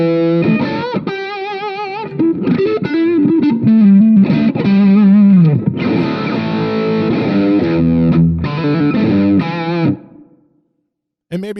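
Electric guitar through a Positive Grid Spark modeling amp on a country preset, playing chords and single notes with effects and sustain, ringing out before fading to silence.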